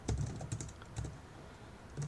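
Keys clatter on a computer keyboard in quick, uneven bursts, close and fairly loud, with short pauses between strokes and no talking.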